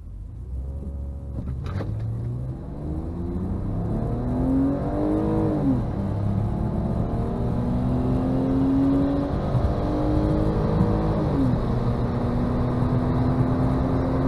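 A BMW E46 accelerating hard on a race run at Orlando Speed World, its engine rising in pitch through a sustained rev with gear shifts, loud and close throughout with steady road and wind roar beneath.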